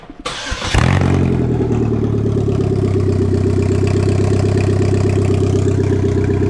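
A race car engine cranks and catches after a brief start, then settles into a loud, steady, rumbling idle close by.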